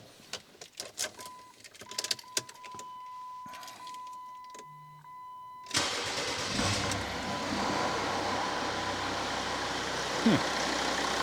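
Clicks and keys rattle before a car engine cranks and catches on an Ancel BS200 starter, settling into a steady, close idle rumble that continues to the end.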